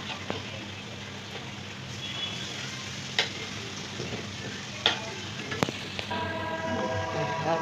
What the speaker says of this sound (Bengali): আমার বড়াটি ভাজা হয়ে গেছে